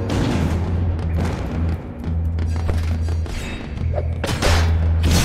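Grenades go off in the video game The Baconing, a series of heavy booms and thuds mixed with game effects, loud and close with brief gaps between blasts.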